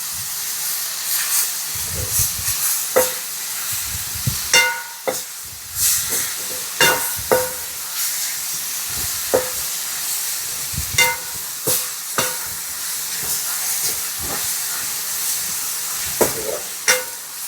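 Chopped spinach fries in oil for palak varan cooked over a chulha, giving a steady close hiss and sizzle with scattered stirring clatters throughout.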